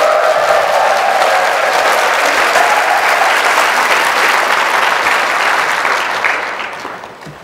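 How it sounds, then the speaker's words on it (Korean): A seminar audience at a guest lecture bursts into loud, sustained applause mixed with crowd cheering that stays dense and steady before tapering off at the end. "함성과 함께 박수 한번 쳐주세요"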